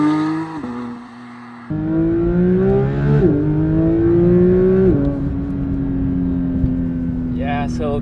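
Porsche 992 GT3 engine revving hard toward 9,000 RPM, a loud sustained howl that climbs in steps with gear changes and holds near the top, close and dominant throughout.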